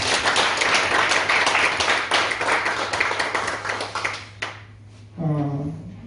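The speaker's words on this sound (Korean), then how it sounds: "우리 축하의 박수를." Congregation applauding at a church ordination service, a dense round of clapping for several seconds that fades out, followed by a brief voice.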